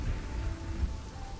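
Rain falls over a burning medieval town in Kingdoms and Castles, a brief steady wash of downpour with a low thundery rumble beneath, moderately loud and without voices.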